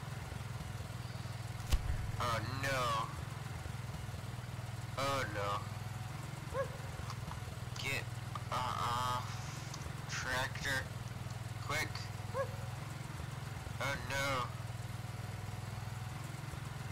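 A tractor engine in the video game Void Quest drones low and steady throughout, sitting under frequent talking.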